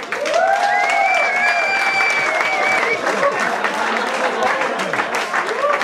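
Sustained audience applause with steady clapping filling the room, some cheering and whistle-like tones over it, continuous and fairly loud throughout.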